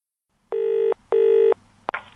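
A telephone rings with two close, even electronic bursts, loud and near, followed by a short click as the call seems to connect.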